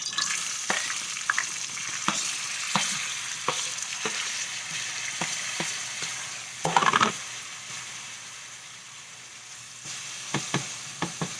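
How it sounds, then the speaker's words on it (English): Mirepoix dropped into a hot pan sizzles continuously, with scattered ticks and scrapes of stirring and a louder clatter of vegetables landing midway, close and clear with no talking. "I'm going to go ahead and drop our mirepoix in."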